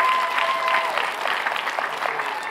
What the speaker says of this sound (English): give Jesus one of the biggest rounds of applause you've given him all day